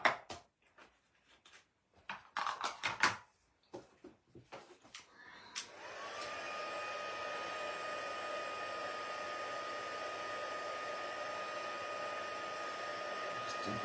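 A heat gun used for embossing a card starts after a few seconds of handling clatter, then blows as a steady, close whooshing whine that holds evenly to the end.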